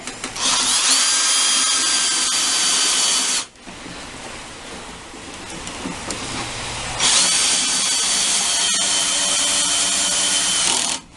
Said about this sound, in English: I'm ready to put the last 2 these self-tapping screws in.